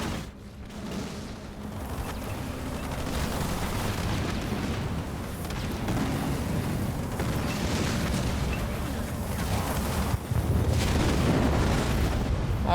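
Archer missile strikes pound an army in the real-time strategy game Halo Wars 2, a steady stream of rumbling booms and bursts layered into a continuous loud barrage for the whole stretch.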